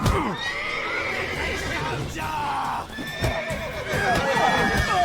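Witcher 3 game audio: a horse neighs loudly near the start, hooves clop in uneven bursts, and shouting voices and game sounds fill the rest of the scene.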